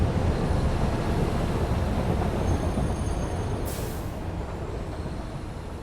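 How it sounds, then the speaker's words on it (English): A train rolls past in the factory-building game Satisfactory, a steady dense rumble of wheels and engine noise that stays loud throughout and slowly eases, with a brief hiss partway through. "There goes our train."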